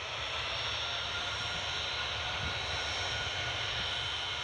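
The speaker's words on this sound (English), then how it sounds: "EasyJet's taxiing at the stand." An EasyJet airliner taxis at Newcastle Airport, its engines giving a steady, moderately distant whine and roar that holds constant throughout, with no voices.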